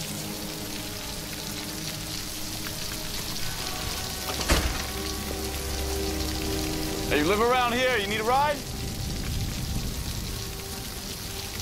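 Steady rain hisses continuously on a surface outdoors, forming a dense sizzling wash under a man's short spoken exchange, with a sharp knock partway through and a brief tonal warble later.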